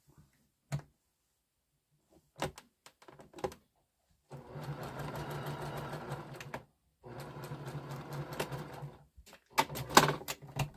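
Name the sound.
sewing machine stitching jelly roll quilt pieces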